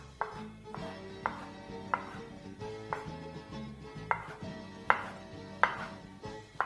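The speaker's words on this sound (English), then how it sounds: "So I'm just going to start off by dicing some tomatoes." Knife dicing hard tomatoes on a cutting board: steady, evenly spaced close chopping thuds, about ten sharp taps, alone with no talk.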